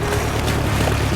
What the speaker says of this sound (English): they hear a noise and look closer to see that Spike has arrived on his boat